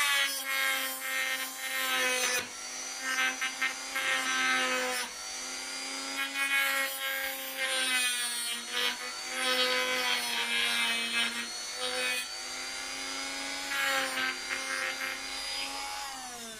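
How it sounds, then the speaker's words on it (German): A small holder for a model railway platform roof is cut out by hand, a steady close scraping and sawing with a faint tonal whine running through, continuous for over fifteen seconds without talk. "Die schneide ich dann hier ein bisschen aus."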